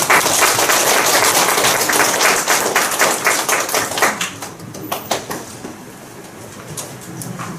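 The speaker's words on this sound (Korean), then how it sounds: "그럼 큰 박수로 오연호 대표님을 모셔보도록 하겠습니다" A lecture audience at a library author talk claps to welcome the speaker, loud and dense at first, then thinning into scattered individual claps that trail off.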